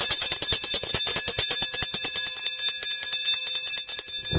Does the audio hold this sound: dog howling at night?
no